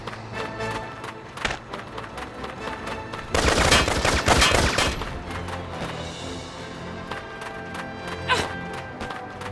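Gunfire in the Valkyria Revolution video game: a loud, dense burst of rapid shots, mid-clip, stands out from game music and scattered sharp hits and clip-clops before and after.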